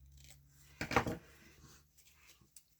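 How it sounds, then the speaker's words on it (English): Scissors snip through a paper border strip on a craft project, one short close cutting burst with light rustling of paper before and after. "And I'm going to trim the end of this."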